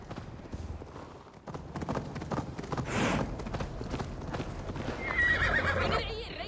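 In Assassin's Creed Valhalla, a horse gallops with a quick clip-clop of hooves and lets out a neigh, alongside game sound effects and a brief high tone near the end.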